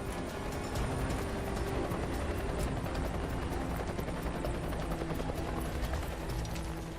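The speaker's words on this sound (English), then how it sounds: "the helicopter lifts a second person from the river" A helicopter hovers nearby with a steady, loud rotor thrum and engine whine that holds constant throughout, no voices.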